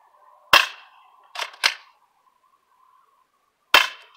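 Low-power airsoft guns plinking at night give four sharp, close pops: a single shot, a quick pair about a second later, then a lone shot after a longer gap, with quiet in between.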